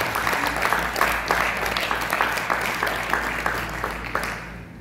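A crowd applauds steadily for several seconds, a dense wash of clapping that holds strong before tapering slightly at the end.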